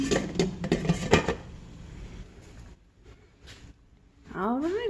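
Metal utensils clink and scrape against pots of boiling apples in quick bursts, then a quieter stretch before more kitchen clatter and a rising tonal sound.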